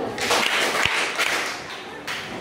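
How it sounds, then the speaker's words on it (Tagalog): A group of presenters gives themselves a few quick claps together, a short burst of close, moderately loud applause with a soft thump and a brief lingering patter. "Bigyan natin ang tatlong palakpak ang ating sarili"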